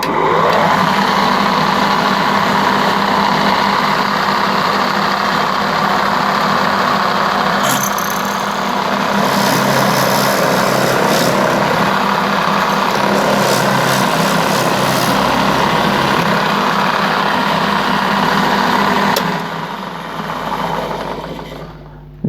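A steady, loud mechanical whine of a power drill boring into a wooden propeller through a drill jig runs continuously, with brief rattling bursts midway before it winds down at the end.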